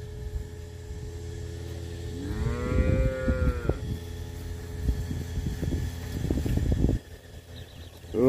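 A dairy cow gives a loud, close moo lasting about a second and a half, followed by further low bovine calls and noises against steady background hum on a farm in Itaíba, Pernambuco.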